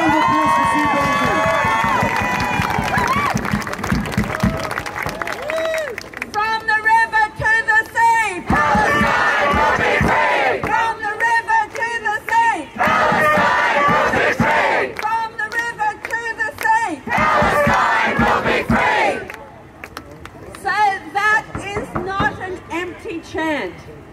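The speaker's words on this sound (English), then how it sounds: "Please, a round of applause for Sue Bolton." Crowd at a socialist rally for a councillor cheering and shouting, with loud rhythmic chanting in repeated bursts and applause mixed through, near and energetic before easing toward the end.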